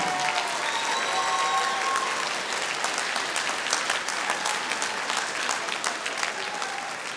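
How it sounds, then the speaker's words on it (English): An audience applauds student performers at a fine arts week recital, a steady, dense wash of many hands clapping that holds evenly throughout, with faint tonal murmurs drifting through early on. "let's give a round of applause for all our student performers this week"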